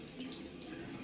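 Water runs steadily from a low-flow tap, a soft even hiss of flow without heavy splashing, close but quiet for about a second.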